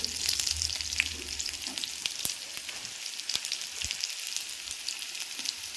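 Small onions sizzle steadily in hot oil with mustard seeds already popped, in a small pan while making a tomato pulissery; a dense, even crackle continues throughout with a few sharper pops.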